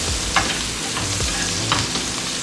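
Chopped onion fries for fried rice in a hot pan, sizzling loudly and steadily while a utensil stirs and scrapes now and then.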